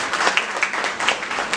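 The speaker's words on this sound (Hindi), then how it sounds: "तालियां हो जाए" A crowd at a birthday celebration claps for an artist's painting: a short burst of dense, moderately quiet applause with scattered sharper claps, lasting under two seconds.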